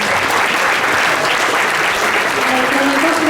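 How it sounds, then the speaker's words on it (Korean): An audience at a startup pitch forum claps loudly and steadily the whole way through. The dense applause fills the room with no break. "다시 한번 수고해주신 스피몬 대표님께 박수 부탁드립니다"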